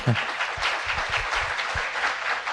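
A television studio audience breaks into lively applause, a continuous crackle of many hands with a few low thumps mixed in, steady and moderately close throughout.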